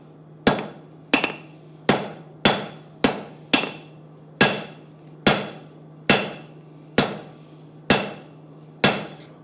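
Hammer blows on hot metal at a forge, about thirteen sharp ringing strikes in a steady rhythm, close and loud, each one decaying briefly before the next.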